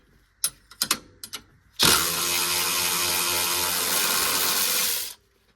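A power impact tool whirs loudly and steadily for about three seconds, zipping lug nuts off a Can-Am Defender wheel, after a few short clicks and clanks of handling the tool.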